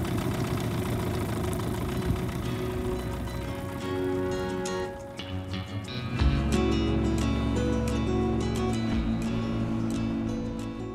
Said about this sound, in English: I got the engine running again